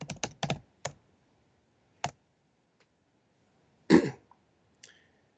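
A few quick bursts of computer keyboard typing come first, then isolated key clicks spaced out in a quiet room. A person clears their throat once partway through.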